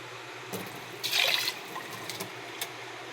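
Water pours into a pot of rice in a short splashy burst, with a few smaller trickles and drips after it, close by.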